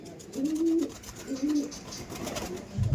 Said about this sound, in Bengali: কালাঙ্কা পায়রা, এই দেখুন দুটো শখ করুন।